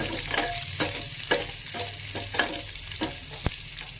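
Dried red chillies, cumin and curry leaves crackling in hot oil for a sambar tempering, a close sizzle punctuated by rhythmic spoon stirs and a sharp metallic tap near the end.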